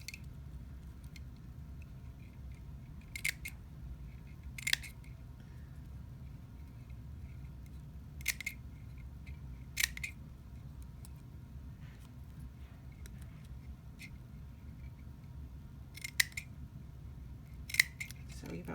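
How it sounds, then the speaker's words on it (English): Scissors snip paper flower pieces for a 3D formed harvest flower, giving a series of sharp, close clicks spaced a few seconds apart over a low room hum, with a person talking quietly between cuts. "Snip in towards the pollen, and again"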